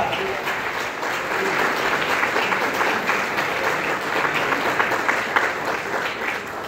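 A church congregation claps steadily in worship, a dense round of applause holding through the whole stretch, with faint voices mixed in.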